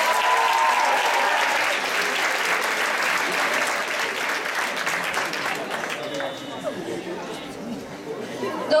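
A crowd applauds steadily for several seconds, clapping dense and loud, with scattered voices chattering underneath before it gradually thins toward the end.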